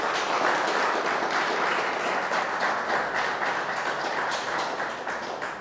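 Sustained, loud applause from a crowd at a startup day event in Mexico City, a thick continuous roar of many hands clapping with no talk over it.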